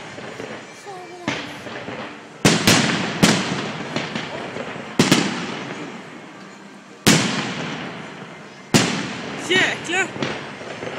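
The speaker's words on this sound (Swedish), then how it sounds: "Sån fyrverkeri som man har." Fireworks bursting at Liseberg amusement park, a series of loud booming explosions at irregular intervals with crackling tails, heard from a distance amid crowd noise and nearby voices.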